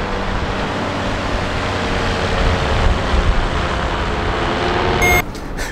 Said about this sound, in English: giant planes fly past my shot, so you can't really hear what I'm saying